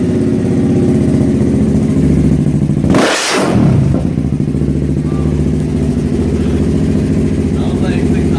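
A 2015 Honda CBR with a Rando slip-on exhaust idles with a loud, steady rumble, then revs sharply once around the middle before settling back to idle, with voices talking over it.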